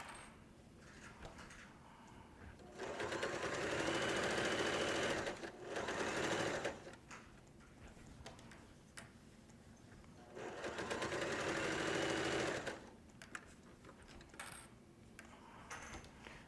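A sewing machine stitches fabric for a potato bag in two close, steady whirring runs, separated by quieter handling and mechanical clicks.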